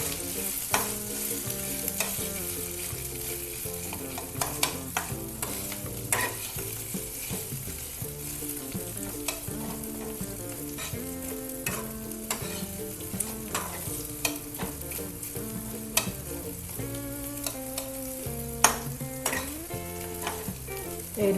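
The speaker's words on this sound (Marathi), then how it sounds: "आता हे तांदूळ आपण परतून घेतो. गुलाबीसर रंगावर हे परतून घ्यायचे तांदूळ." Raw rice is roasted and stirred in a pan for coconut rice, giving a steady close sizzle with a constant dry scraping, rustling stir and frequent small ticks of grains and spatula, no speech.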